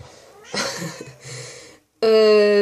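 A house cat meows several times up close, drawn-out cries that break into a loud, clear, sustained yowl at the end, heard alone with no speech.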